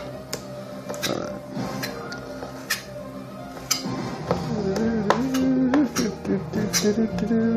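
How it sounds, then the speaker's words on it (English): Knife chopping chicken on a cutting board for a Chinese chicken dish, a steady run of sharp, close taps with irregular spacing, and one brief spoken word near the end. "Cut out this boring part of me chopping."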